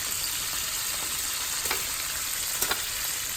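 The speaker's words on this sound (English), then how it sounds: "I'll let those fry up." Rattlesnake pieces frying in hot oil, a steady dense sizzle with a few faint pops, continuous and close with no talk.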